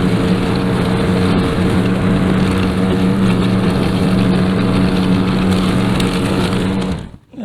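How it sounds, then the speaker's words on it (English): A lawn mower engine runs on an overgrown yard, giving a loud, steady, close drone with a constant low hum that lasts about seven seconds and then cuts out abruptly. "Let's go get the mower and run the mower over it."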